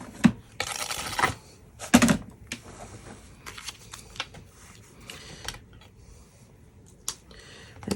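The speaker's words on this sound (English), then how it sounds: "I'm going to take the die that goes with it, and I'm going to cut both the vellum and a piece of white cardstock" A die cutting machine presses a die through vellum layered with white cardstock, giving close, irregular clicking and grinding bursts with short quiet gaps between them.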